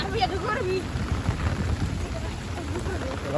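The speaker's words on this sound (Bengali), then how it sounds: "আজকে আমাদের লাকসাম থানাতে প্রচুর বৃষ্টি হতেছে" Steady, heavy rain hisses continuously in Laksam, Bangladesh, with a voice briefly speaking over the downpour.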